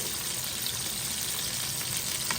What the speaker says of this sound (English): we're gonna put those greens in there and fry them like grandma used to fry her collard greens